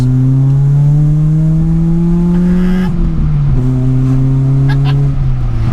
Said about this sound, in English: A little good exhaust note from the 3-inch back box.